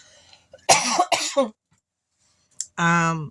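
A couple of sharp, close coughs, followed after a pause by a short voiced throat sound.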